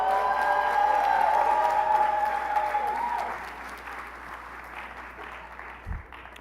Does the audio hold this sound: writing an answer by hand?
no